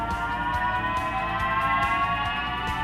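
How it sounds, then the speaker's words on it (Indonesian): A steady, continuous electronic hum with sustained tonal layers and a faint pulsing underneath, even in level throughout: an electric car's pedestrian warning sound at low speed. "ada buat ganti avas alias suara peringatan buat berjalan kaki pas kita lagi jalan pelan"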